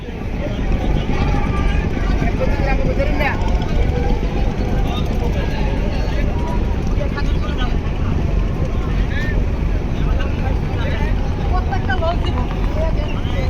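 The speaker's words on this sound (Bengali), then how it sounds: "বাইশ নম্বর পজিশনে এমবি বালিয়া ছাড়ছে তার নির্দিষ্ট স্থানের উদ্দেশ্যে" Passenger launch MV Baliya departs from a crowded river ghat after the Charmonai mahfil, its engine a loud, steady low rumble under wind noise, with someone talking over it.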